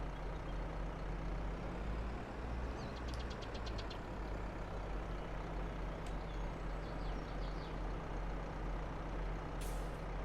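A John Deere tractor engine in a console farming video game idles with a steady low hum, joined by a few brief airy hiss bursts and faint clicks.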